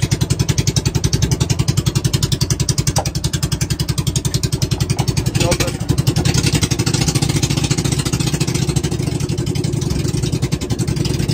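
A boat's loud, steady engine drones and throbs continuously at close range, its rapid pulsing rhythm unchanging throughout.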